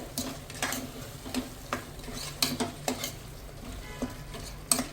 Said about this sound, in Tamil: நல்லா ட்ரை மசாலா போட்டுட்டு நல்லா இலக்கி விட்டுக்குங்க